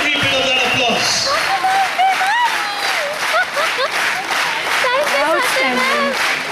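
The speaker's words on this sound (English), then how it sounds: "Keep that applause going for all these teams." Loud audience applause and cheering for competing school teams at a rural IT quiz national final in Bangalore, continuous and dense, with voices calling out and talking over it.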